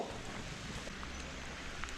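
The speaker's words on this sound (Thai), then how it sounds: "ฝนตกจบเลย" Rain falls steadily during a fishing trip outdoors, a dense, even hiss with scattered drop ticks, close and continuous throughout with no voices.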